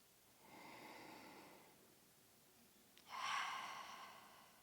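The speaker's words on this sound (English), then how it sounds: "exaggerated breath" Two deep, exaggerated breaths taken during a shoulder and core exercise: a long, soft inhale with an airy rush, then after a pause a sharper, louder intake that tapers off gradually, heard alone in a quiet room.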